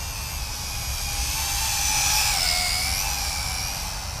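A Wltoys Q919A RC flying tank flies overhead with a continuous high-pitched electric whine of spinning propellers, its pitch rising and falling slightly as the throttle shifts, steady and fairly close.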